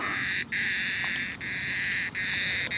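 Dense, shrill droning of cicadas in a forest fills the air, loud and continuous, cutting out briefly a few times before resuming.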